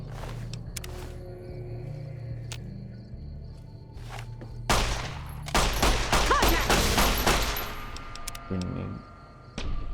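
Bursts from a grenade machine gun in Fallout: New Vegas thump out as a cluster of loud, heavy shots and blasts midway through, among footsteps and quieter game sounds, with voices heard around the firing.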